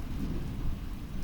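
Heavy rain pours steadily while a deep, low thunder rumble rolls underneath, loud and continuous throughout with no voices.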